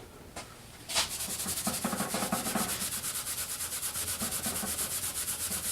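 An SOS steel wool pad scrubs a wet pinball playfield in quick, rhythmic back-and-forth strokes, a close, continuous gritty rasp that starts after a brief quiet moment.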